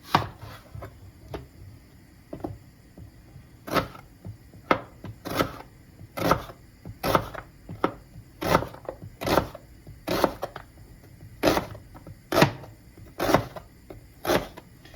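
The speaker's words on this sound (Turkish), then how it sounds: "Ben soğanlarımı 5-6 tane böyle soydum. Bunları doğrayacağım." Steady knife chops slicing onions on a cutting board, a rhythmic series of crisp thuds at an even pace, close and clear with a quiet background.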